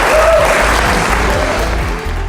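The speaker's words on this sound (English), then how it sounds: "Give yourselves a round of applause." A conference audience applauds in a dense, continuous wash of clapping that fills the large room, loud and steady and easing slightly toward the end.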